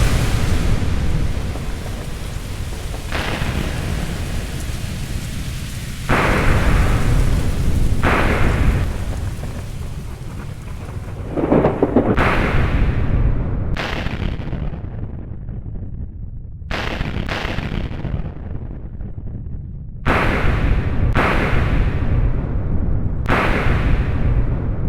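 In the video game Echostasis, a thunderstorm pours steady heavy rain while repeated loud thunder claps and rumbles break in every few seconds, with no voices.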